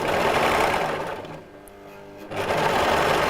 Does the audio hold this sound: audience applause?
no